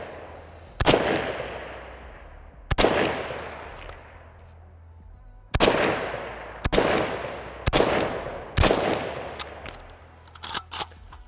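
Gunfire from a Palmetto State PSAK-47 AK rifle, American-made: six loud, sharp shots spaced a second or two apart, each ringing out with a long decaying echo outdoors.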